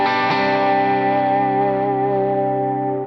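A dry electric guitar chord rings out clearly and sustains evenly, fading slightly at the end, with no echo or ambience.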